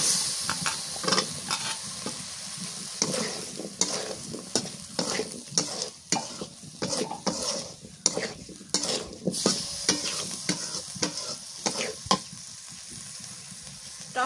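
Potatoes fry in a pan while being stirred vigorously, producing a loud, continuous sizzle with rhythmic scraping and clattering strokes throughout, close up and without speech.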